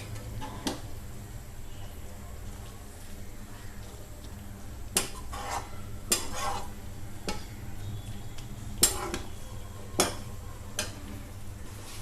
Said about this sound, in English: Mix it upside down. We have to mix it gently.